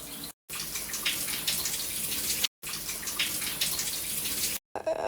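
A shower runs with a steady broad hiss of falling water, cut by short silent gaps where the flow stops, and no talk over it.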